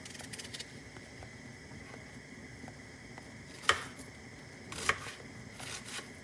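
A small knife chops matooke on a cutting board, giving a few faint, scattered taps with two sharper knocks near the middle of an otherwise quiet kitchen stretch.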